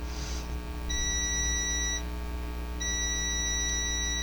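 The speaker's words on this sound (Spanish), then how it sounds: "si escuchan el pitido que hace, da igual si lo hago por aquí o por aquí, eso me indica que está correcto" A digital multimeter on continuity test across a thermal fuse gives two steady electronic beeps, each about a second long, separated by a short gap over low background hum.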